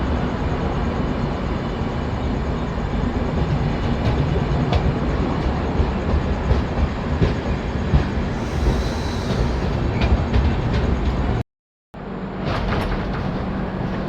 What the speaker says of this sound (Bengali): ফাইনালি খুর্দা রোড জংশন থেকে ট্রেন ছাড়লো।